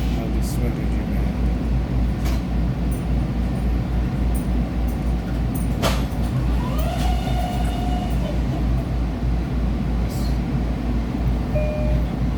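A train rolls along a railroad with a steady, loud low rumble throughout, marked by a few sharp clanks and a brief high squeal near the middle, while people talk over it.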